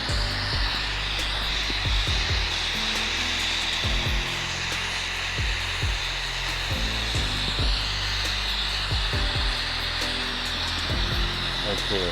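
A brazing torch roars steadily while copper pipe is joined to steel pipe with brass rod for air conditioning work, a constant close hiss with faint clicks and taps underneath.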